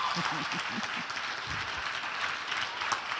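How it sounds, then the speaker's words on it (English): Applause for the first runner-up at a hackathon grand finale, a moderate crowd clapping steadily with faint voices mixed in. "Please clap for her."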